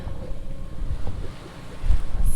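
A sailboat motors at sea near Cape Verde, its low engine rumble blending with wind buffeting the microphone and the wash of waves, loud and close throughout.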